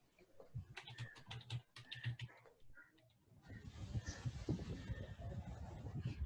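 A computer keyboard is typed on in quick, steady clicks for a few seconds, close and fairly quiet, before other room noise takes over.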